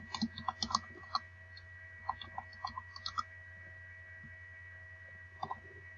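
Computer keyboard keys click in short irregular bursts and isolated taps while code is typed, faint and close, over a steady electrical hum with pauses between runs.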